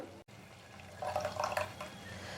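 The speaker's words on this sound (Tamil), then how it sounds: "மிக்சி ஜாரை நல்லா அலசிட்டு ஒரு அரைக்கப் போல் தண்ணி ஊற்றிடலாம்" Water is poured into a mixer jar, a soft splashing trickle that swells over about a second, set against a low steady kitchen hum.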